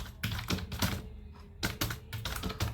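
Rapid, irregular clicking of a computer keyboard as C code is typed, the keystrokes close and crisp, coming in quick bursts with short pauses and no talking.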